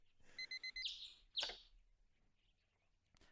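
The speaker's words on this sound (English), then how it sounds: "I groggily reach out and switch off the alarm." An alarm clock in the ToHeart2 video game rings with a burst of rapid electronic beeps, followed by a bright chirping tone and a sharp click, then fades to quiet.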